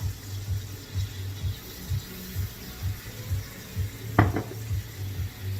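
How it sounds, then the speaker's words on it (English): Sauvignon Blanc hits a hot, burning pan for deglazing, giving a steady close sizzle and bubbling hiss with a rhythmic low stirring or scraping pulse and a brief clink of metal; no talking. "And now I'm going to deglaze the pan with some Sauvignon Blanc."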